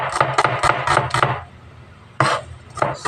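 Knife chopping ingredients for shrimp curry with coconut milk on a board, a quick run of crisp, close strikes, a brief pause, then a few more chops.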